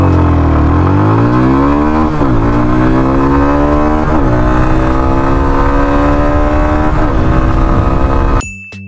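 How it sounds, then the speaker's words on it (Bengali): A Yamaha FZ-25 250cc motorcycle accelerates hard through the gears in a 0 to 100 test, its loud engine note climbing repeatedly with quick dips at each of several gear changes, close and continuous before ending abruptly. "এখন আমরা টেস্ট করব এই 250cc ইঞ্জিন থেকে 0 to 100 এই বাইকটা কেমন টাইমিং আনতে পারে"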